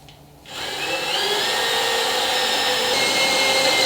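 A power drill whines steadily at high speed, starting abruptly after a brief quiet moment and grinding continuously as it drills out spot welds on a Ford Bronco body, close and loud.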